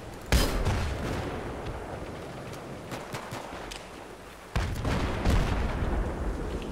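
Battlefield 3 game combat with a tank being destroyed: a sharp blast opens, followed by continuous rumbling gunfire and scattered shots, then a second heavy explosion surges and lingers near the end.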